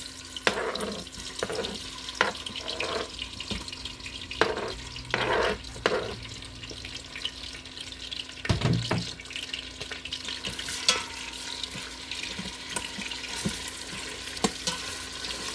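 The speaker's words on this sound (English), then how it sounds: "Now I only had my Instant Pot on saute" Chopped beef pieces sizzling in melting beef tallow in an Instant Pot on the sauté setting, with a steady close frying hiss broken by repeated scraping and stirring knocks of a utensil against the pot.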